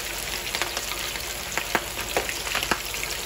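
Yellowfin tuna head frying in hot oil in a pan, giving a steady close sizzle with sharp crackling pops scattered throughout.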